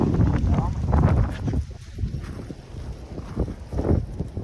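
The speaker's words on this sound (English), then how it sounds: "It's windy." Wind gusting outdoors, rumbling and buffeting the microphone in broad low surges, with people talking and laughing over it.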